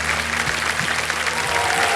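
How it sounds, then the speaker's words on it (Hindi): A studio audience at a televised quiz show applauds warmly and steadily, a dense close wash of clapping with no break for the full two seconds. "तालियां बज जाएं इनके लिए।"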